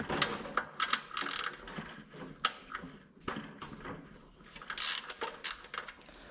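Bolts are removed from a Predator 224 stroker engine on a Coleman BT200X mini bike, heard as close, busy bursts of ratchet clicking and metallic clanks that come in quick, uneven runs.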